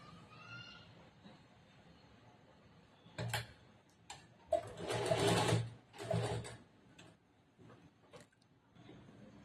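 Sewing machine stitching a chudidar top, heard in short whirring bursts of stitching with pauses between, fairly close and moderately loud, no talking over it.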